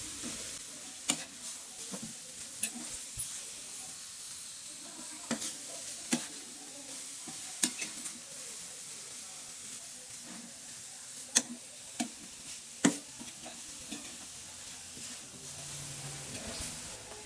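Grated carrot halwa roasting and being stirred in a pan, with a steady soft sizzle and hiss under irregular sharp ticks and scrapes of the spoon against the pan, close and continuous, no talk.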